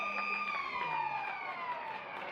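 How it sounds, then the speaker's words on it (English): A long, loud quarter-time siren at a WAFL Colts football match, Claremont vs South Fremantle, wails steadily over a crowd, its pitch sliding slowly downward as it holds for a couple of seconds. "right on the quarter time siren."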